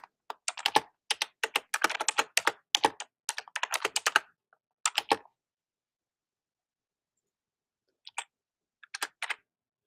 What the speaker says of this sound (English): The type of keyboard I have and my fingernails do not agree.